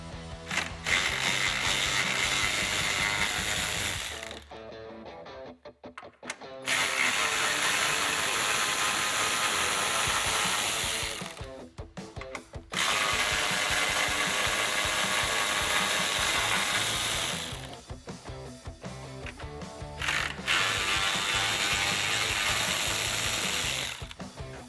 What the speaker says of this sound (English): Grab your socket and remove those bolts.